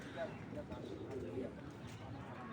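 A female racing pigeon coos softly in its cage, low repeated calls under steady background noise and a voice nearby.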